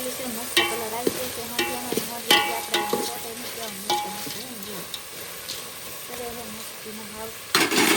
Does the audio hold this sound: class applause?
no